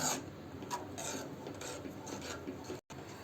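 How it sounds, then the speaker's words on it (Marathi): A rice flour mixture is stirred in a pan over low heat, soft repeated scraping and rubbing strokes close by, faint and steady with a brief gap near the end. "मंद आचेवर घट्ट होईपर्यंत हे ढवळत राहायचं"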